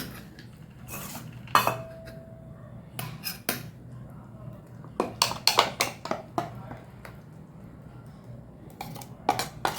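Several sharp clinks of a spoon against a metal pot, scraping and tapping in irregular bursts as pirandai chutney is transferred to another vessel, close by with a low background hum.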